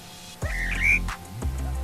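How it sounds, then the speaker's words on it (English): A Leptodactylus frog on Autana mountain gives a loud, close, rising whistled call, one sharp upswept note followed by a shorter second one, over low background hum. "It's a frog called Leptodactylus, whose size belies its loud call."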